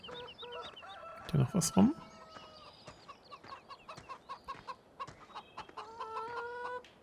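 Hens in the Landwirtschafts-Simulator 15 farming game cluck and chatter near their nests in a steady run of short calls, with a louder squawking burst early on and someone speaking briefly over them.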